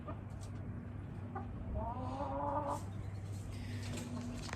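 Backyard chickens cluck, with a short run of hen clucks rising over a steady low hum and faint rustling, close by and moderately quiet, no one speaking.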